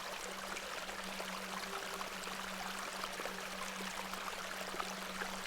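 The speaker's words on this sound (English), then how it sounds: "I do enjoy the charm of a babbling beck" A babbling beck in the video game Excavation at Hob's Barrow: icy-cold water trickles and burbles continuously at a steady level, with a faint low hum underneath and no talking.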